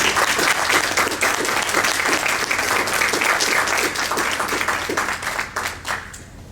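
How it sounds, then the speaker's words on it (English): Audience applause at a book conversation event, dense steady clapping from a crowd filling the room, loud and sustained before tapering off near the end. "So wonderful round of applause for"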